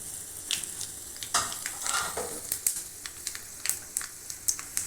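Mustard seeds, fennel, green chillies and spices sizzle and crackle in hot oil, a steady frying hiss broken by sharp pops and spatters as the seeds burst, close and moderately loud with no talking.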